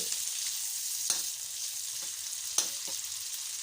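Pork belly sizzles loudly as it is stir-fried in a pan. The frying hiss is close and constant, and a few sharper scrapes of the spatula break through it. Nobody speaks.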